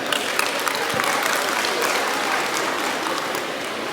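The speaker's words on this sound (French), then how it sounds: "Il faut les applaudir, il faut les féliciter." An audience at a graduation ceremony applauds the graduating girls, with dense, steady clapping that holds loud throughout.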